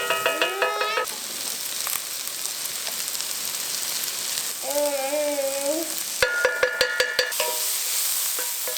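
Garlic grated over a sizzling pan of shakshuka, a continuous close frying hiss broken by quick rhythmic scraping strokes, with some tonal background sounds and no talk.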